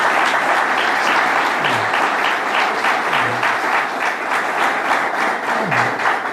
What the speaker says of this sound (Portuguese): Tem uma salva de palmas para Jesus?